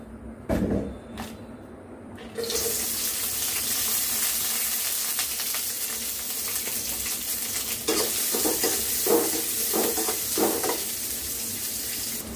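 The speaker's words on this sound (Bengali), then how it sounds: "তো আমার পেঁয়াজ মরিচটা ভাজা ভাজা হয়ে গেছে" Onions and chilies fry in a small amount of oil in a kadai, a steady close hiss and sizzle that starts abruptly after a couple of brief clatters and continues with occasional stirring knocks.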